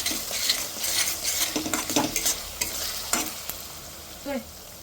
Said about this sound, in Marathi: आणि गरम मसाला छान फोडणीला घातलाय.